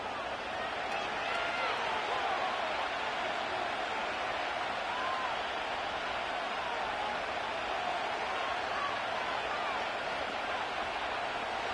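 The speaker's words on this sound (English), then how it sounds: "This crowd turning up the decibel level." A stadium crowd at a Ravens football game keeps up a steady, broad roar for the whole stretch, with no lulls, and a commentator talks over it.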